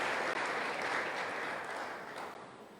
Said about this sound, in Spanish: Un aplauso para nuestros intérpretes.